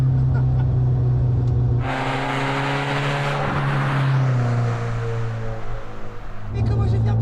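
Sports car engine held at high revs around 5000 rpm, a loud steady drone with rising intake roar in the middle, heard from inside the cabin.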